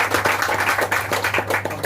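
An audience at a Dalit community political meeting claps in a brisk, fairly rhythmic burst of hand claps close by, with a steady low electrical hum underneath.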